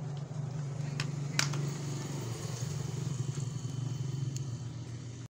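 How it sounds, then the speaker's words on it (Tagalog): A two-door refrigerator's compressor hums in a steady low drone close by, with a few faint clicks and rattles over it and no talking. "Umugong na yung compressor niya."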